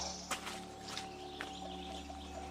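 Creek water flowing beside a muddy trail, a soft continuous trickle heard from nearby outdoors with a few brief knocks and rustles over it.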